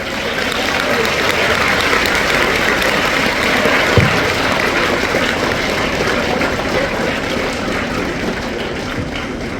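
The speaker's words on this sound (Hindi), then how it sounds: "अपने स्कूल के लिए ताली बजा के दिखाओ।" Schoolchildren clap loudly for their school at a school seminar, a continuous, energetic crowd of hands with a voice faintly audible beneath the noise.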